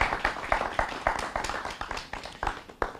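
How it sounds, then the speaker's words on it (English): Audience clapping to welcome broadcaster Brian Wheeler at a student media event, an uneven scatter of sharp claps from a smallish crowd, fairly close and steady throughout, with faint voices underneath. "So everyone give a welcome applause to"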